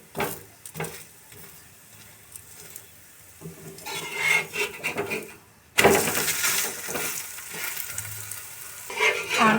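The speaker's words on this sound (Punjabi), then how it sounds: "ਇਹਨੂੰ ਵੀ ਉਲਟਾ ਪਲਟਾ ਕੇ ਚੰਗੀ ਤਰ੍ਹਾਂ ਅਸੀਂ ਕ੍ਰਿਸਪੀ ਕਰਕੇ ਸੇਕ ਲਵਾਂਗੇ" Makki methi roti, a maize-flour flatbread with fenugreek, roasting crisp in ghee on a hot griddle: soft frying sizzle with scraping and rubbing as it is flipped and pressed, growing louder and busier halfway through, with no talking.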